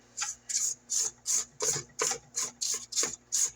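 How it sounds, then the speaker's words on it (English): A spatula scrapes around a mixing bowl of cream cheese pecan pound cake batter after the eggs go in, giving about nine even rhythmic rasping strokes, close and clear with no talk. "All right, we have 3 eggs in. We're going to scrape down."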